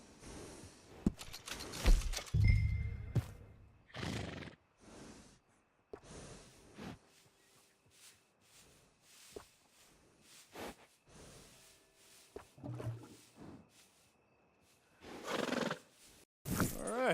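A horse in Red Dead Redemption 2 neighs and snorts in loud close bursts, with a whinny early on and more snorts, breaths and a final neigh separated by quiet gaps.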